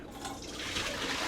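Soaked potatoes lifted out of a pot of water while cooking, giving a close, continuous splashing and dripping wash that gradually grows louder, with no talking.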